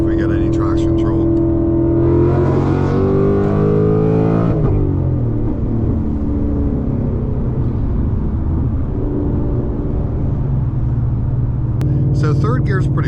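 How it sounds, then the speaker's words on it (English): A Whipple-supercharged 2025 Mustang GT pulls hard in third gear, its loud engine rising steadily in pitch, then a sudden drop as the throttle lifts and a lower rumble follows, with a voice speaking briefly at the start and end. "we'll do a little third gear pull and see if we get any traction control"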